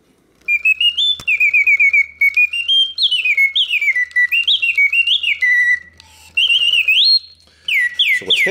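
A mechanical bird whistle inside a singing bird cage music box warbles in rising and falling chirping trills, loud and close, continuing steadily with brief pauses between phrases.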